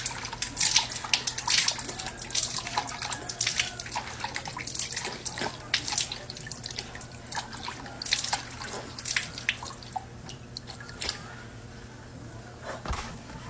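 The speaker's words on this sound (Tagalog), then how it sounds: "we're going now to wash our face with the water" Splashing water from washing a face with chlorine-free water, dripping and trickling in irregular bursts close by, with scattered splashes over a steady low hum and no talking.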